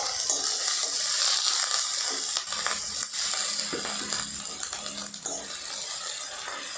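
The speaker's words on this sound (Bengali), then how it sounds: "পেঁয়াজটা হালকা একটু ভাজা হবে" Onions frying in a pan with oil on reduced heat, stirred with a spatula while cooking for a dry-fry Bengali dish, giving a steady loud crackling sizzle with scraping and stirring sounds throughout and no talk.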